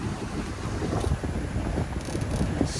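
A sailboat under way on a windy day, with steady, loud wind buffeting the microphone over a rush of water throughout.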